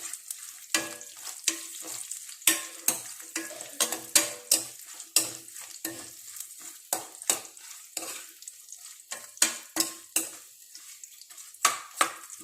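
A mushroom mixture fried in a pan and stirred with a spoon, heard as repeated rhythmic scrapes and clanks about every half second over a low sizzle, close and clear, without talking.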